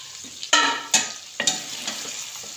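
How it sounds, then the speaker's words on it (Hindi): Chicken pieces for angara karahi frying in hot oil, close crackling sizzle punctuated by three or four sharp stirring scrapes and spatula knocks, no voices. "ऑयल में हमने चिकन फ्राई किया है"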